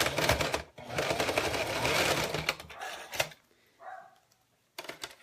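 A sewing machine stitches a tab onto a zipper, giving a loud, close, fast mechanical whir for a few seconds, then stopping, followed by a short handling sound and a brief final burst; no one talks.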